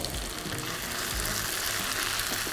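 Masoor dal roasting in a pan gives a steady, dense sizzle with a few low scraping stirs, close and continuous throughout.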